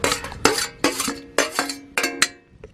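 Crab and potatoes stirred in a cooking pot, a metal spoon scraping and clanking against the pot in six or seven sharp, close strikes with ringing tails, no voices over it.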